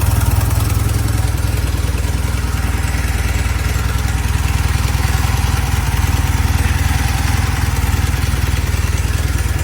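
A 1972 Norton motorcycle engine idles slightly high with a loud, steady, throbbing rumble, close up and unbroken throughout, with no voices.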